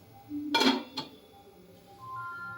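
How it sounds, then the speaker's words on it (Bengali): Metal lid set onto a pot of lentil dal cooking with raw mango in a kadai, giving one clanking clink and then a lighter tap, followed by quiet simmering. "এবার আমি একটু ঢেকে দেবো"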